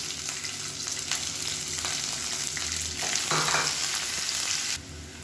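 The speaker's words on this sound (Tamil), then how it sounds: "வெங்காயம் நல்லா வதங்கிடுச்சு" Onions sautéing in a pan, a constant close sizzle with occasional stirring, swelling louder briefly before easing off at the end.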